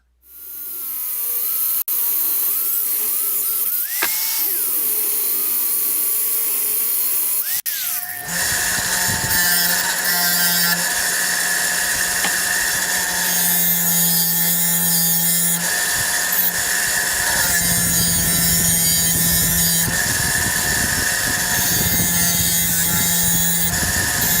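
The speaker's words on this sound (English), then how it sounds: "I'll go over to the grinder and shave a little off the ends of each bar" An angle grinder shaves angled edges onto the ends of steel bars for a welding table: a loud, steady high-pitched whine after a spin-up, with the tone dipping and rising as the disc bites into the metal in repeated passes.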